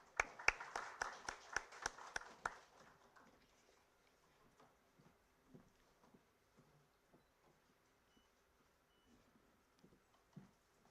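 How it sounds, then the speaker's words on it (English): Brief burst of audience clapping at a business conference in a college hall, a quick run of sharp claps over about two seconds that fades to faint scattered taps. "Please give a big round of applause"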